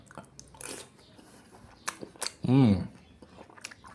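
A few crisp, close crunches of crunchy wild boar pork skin being chewed, with a brief appreciative hum from a voice in the middle.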